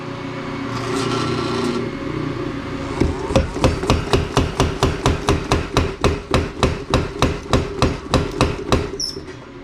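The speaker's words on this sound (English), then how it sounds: "go back to the tire hammer." A tire hammer pounds hot metal for a copper and wrought iron coffee scoop in a fast, steady rhythm of sharp, loud blows, about two or three per second, close by with no talking.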